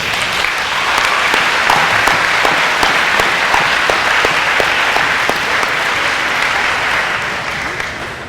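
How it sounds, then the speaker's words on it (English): A large audience at a Tiffin University move-in day welcome applauds staff and faculty, a dense sustained roar of clapping that holds steady for several seconds before slowly tapering. "please stand and let's give them a round of applause"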